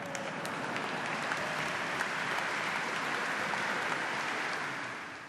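Nuns start a crowd's applause during Pope Francis's apostolic visit to Slovakia, a steady, continuous clapping from a large group heard at moderate distance.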